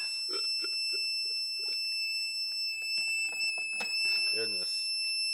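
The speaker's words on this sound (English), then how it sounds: "This one's gonna beep." Schumacher 750W XI75DU power inverter under repair sounds a steady, shrill, continuous low-battery alarm tone throughout, with a person talking and handling noises underneath.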